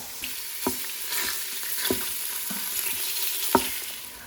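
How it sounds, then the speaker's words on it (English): Sausage browns in an Instant Pot with a soft continuous sizzle, punctuated by several spoon scrapes and taps at irregular intervals, close and unaccompanied by talk. "we're going to let this cook till it's nice and browned."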